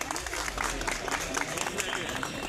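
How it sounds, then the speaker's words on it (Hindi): Guests at a retirement function in Delhi's South zone keep up a continuous crackle of clapping, while people talk over it the whole time. "तालियां बजती रहे।"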